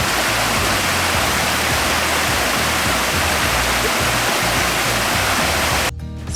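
Steady, loud rush of river water flowing from the Curug Citiis waterfall on a mountain trail, a continuous broadband roar with no voices that thins abruptly in the last half second.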